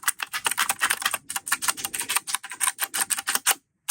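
Keys on a Keychron K3 Max keyboard click rapidly and continuously, a dense, close rattle of crisp individual keystrokes in uneven rhythm before stopping abruptly.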